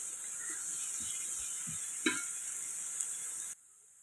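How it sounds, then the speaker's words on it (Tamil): Onions sautéing in oil with a little salt while mutton biryani is being prepared, a soft steady sizzle with a few quiet stirring scrapes and a faint utensil knock, cutting off abruptly near the end. "வெங்காயம் இந்த அளவு வதங்கிடுச்சு."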